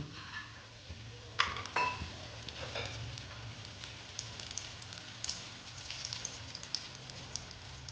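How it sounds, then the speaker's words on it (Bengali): Lentil badi sizzling in hot oil in a pan, a steady soft crackle and hiss with a few brighter pops early on, no voices. "তেলটা গরম হয়ে গেছে, এবার আমি ডালের বড়িগুলো দিয়ে দিচ্ছি।"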